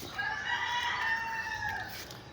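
A rooster crows once nearby, a drawn-out call over faint background clucking.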